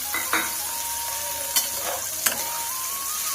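Potato and carrot pieces frying together in a pan give a steady sizzle, with a few sharp scrapes and clinks of a stirring spoon as the mixture is moved about; there is no talk.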